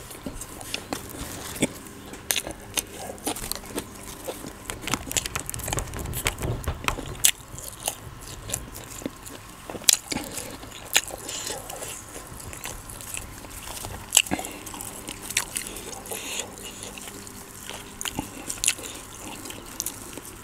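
Someone chews and bites Thai fermented beef sausage (mam) close to the mic, producing a steady run of moist, crunchy mouth sounds and small clicks with little else in the background.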